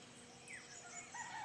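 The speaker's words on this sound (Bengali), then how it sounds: "চারিদিকে পাখির ডাক" Birds calling around a rooftop at dawn: faint, thin chirps and whistles rising and falling over quiet ambient noise, with cricket-like insect hiss and no talk.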